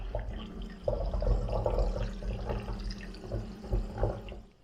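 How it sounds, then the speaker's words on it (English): Club soda or seltzer water pours into a mix of strawberry syrup and juice for homemade fruit soda, a steady splashing gurgle of liquid, fairly close and continuous. "we're going to add our club soda or seltzer water"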